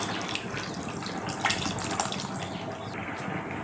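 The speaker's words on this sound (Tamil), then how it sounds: "இப்போ குழம்புக்கு தேவையான புளி தண்ணி ஊற்றிக்கிறலாம்." Tamarind water pours steadily into a pot of kuzhambu curry made with cluster beans, a continuous splashing liquid stream with a few louder sloshes, close and fairly quiet, with no talk.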